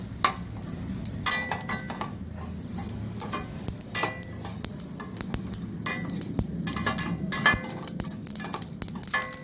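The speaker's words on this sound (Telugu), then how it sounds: "కొంచెం నూలు పప్పు ఒక స్పూను కలిసి బాగా వేయించాలి" Lentils being roasted in a pan give a steady rattling, scraping and ticking under a faint sizzle as a spoon keeps stirring them, the clinks irregular and close for the whole stretch.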